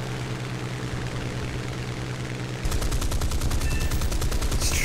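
Aircraft cannons firing in a War Thunder dogfight involving a Hurricane and a Lightning: an engine drone, then a rapid, loud, continuous stream of cannon shots rattling over it.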